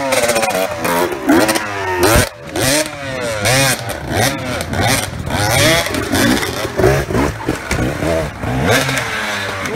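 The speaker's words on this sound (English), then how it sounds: "today I'm going to show you guys how to do wheelies." An enduro motorcycle revs hard and continuously while doing wheelies, its loud engine rising and falling in repeated throttle blips close by.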